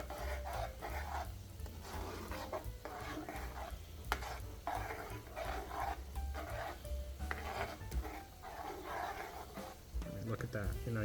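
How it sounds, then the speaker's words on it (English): Meat browning in a pan with salt and pepper gets stirred, a steady sizzle and scraping running throughout with speech over it, as a meat spaghetti sauce cooks. "We're going to go ahead and stir in that salt and pepper."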